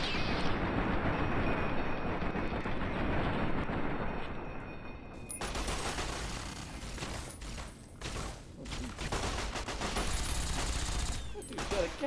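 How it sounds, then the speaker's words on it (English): Gatling laser fire in the game Fallout New Vegas, a dense continuous burst of rapid zapping shots with booming impacts, dropping briefly then resuming in heavy chaotic volleys, loud throughout. "That dude's got a Gatling laser."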